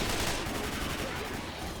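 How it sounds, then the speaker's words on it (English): Dense gunfire from several guns in the video game Left 4 Dead 2 comes as a rapid, continuous burst of overlapping shots. It sounds fairly loud and is very brief, with no one talking. "This way, with the NPCs, you have 7 guns shooting at everything."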